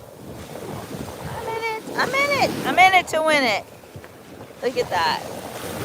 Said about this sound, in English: The waves are pretty mild today